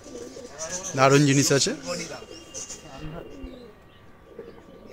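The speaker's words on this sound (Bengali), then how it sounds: "হাতেই ডাক দিচ্ছে পায়রা দেখুন" Pigeons, including old-generation breeds, coo from a bird held in the hand at a home loft in Bangladesh: a few soft throaty coos close by, partly under a man's speech.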